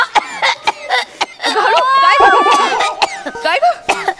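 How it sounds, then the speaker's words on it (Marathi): A comedian on a Marathi stage comedy show gives a few short sharp coughs, close and loud, followed by drawn-out voiced sounds and more coughing, with speech mixed in. "आता कसा खोकला आला बरोबर तुला?"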